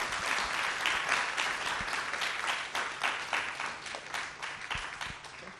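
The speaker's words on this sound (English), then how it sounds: "Let's give a clap." Audience applause after a philosophy of AI talk, steady clapping from a crowd filling the whole stretch at moderate level, with no voices over it.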